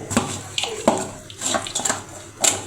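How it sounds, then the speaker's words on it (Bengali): Hands being washed under a running tap in a home kitchen after mixing fish head with turmeric and salt; soft irregular splashing and water spatter with a few brief louder splashes, close by, no talk. "এখন আমি হাতটা ধুয়ে নিলাম"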